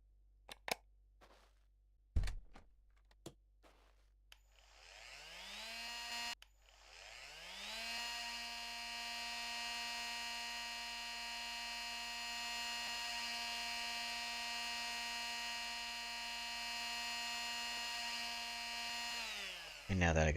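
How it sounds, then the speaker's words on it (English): Angle grinder in the video game Nomad Drive grinds a vehicle, a steady high whine sustained for about thirteen seconds after a few sharp clicks and knocks, with a faint background hum. "And now that I got the grinder out, let's do the hood of the vehicle."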